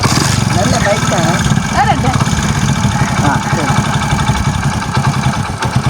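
A motorcycle engine idles steadily in the foreground, a low continuous rumble, while voices talk over it.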